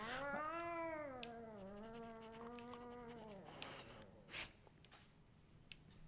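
A cat gives one long, drawn-out, wavering yowl close by, rising and falling in pitch for about three seconds, followed by faint rustling and light clicks.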